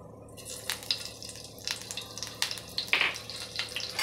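Mustard seeds crackling and popping in hot oil in a kadhai, with irregular sharp pops over a steady frying hiss, close and moderately loud, no talk.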